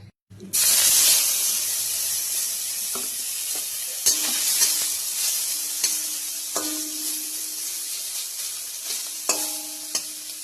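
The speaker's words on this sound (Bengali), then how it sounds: "চিংড়ি মাছ ভেজে নেব। তেল দিয়ে দিলাম, সরিষার তেল দিচ্ছি।" Prawns fry in mustard oil in a kadai, starting with a sudden loud burst of sizzling that settles into a steady hiss, broken by a few sharp clinks and spatters of stirring.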